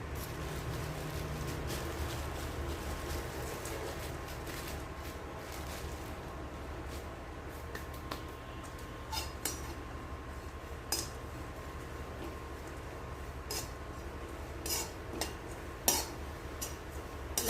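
Grated coconut roasts in a dry pan while being stirred continuously, a faint, quiet scraping with sparse light clinks and ticks of a utensil against the metal, with no voices.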